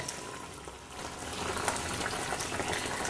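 Fish curry simmers in a pan, a steady low bubbling hiss with faint pops that stays even and close throughout, with no talk over it.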